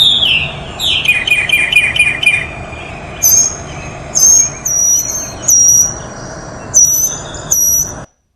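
A mockingbird sings from a played-back recording, giving a quick run of repeated descending chirps followed by a spaced series of sharp, high whistled phrases, fairly loud and close.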